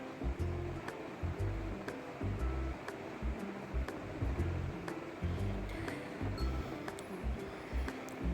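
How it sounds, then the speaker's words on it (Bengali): Garlic paste and turmeric powder fry in oil in a pan for an egg curry, giving a steady, close sizzle with low bursts of stirring and no speech. "1/2 চামচ রসুন বাটা, 1/2 চামচ হলুদ গুঁড়ো দিয়ে ভালো করে নেড়ে চেড়ে মশলাটা আমি কষিয়ে নেব।"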